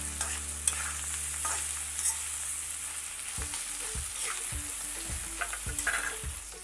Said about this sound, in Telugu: మనం మ్యాష్ చేసుకున్న బంగాళదుంపలు ఉన్నాయి కదా, ఇది వేసేయాలి. వేసి 1 నిమిషం వేయించాలి.